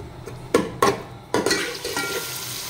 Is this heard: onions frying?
yes